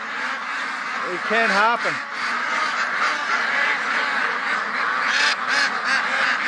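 Ducks at a lake quack loudly and continuously, a dense noisy flock close by, while a person talks briefly over them.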